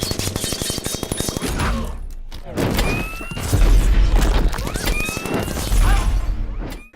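Gunfire in a Captain Marvel movie scene: loud, dense bursts of shots and heavy impacts pound through an action soundtrack, with booming thuds and clattering mechanical noise throughout.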